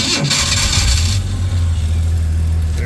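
A 1941 Dodge Weapons Carrier engine cranks and catches, then settles into a loud, steady low rumbling idle close by.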